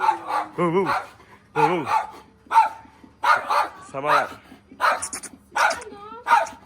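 Several dogs bark and yelp repeatedly nearby at a python temple in Benin, loud and irregular, with people talking between and over the barks.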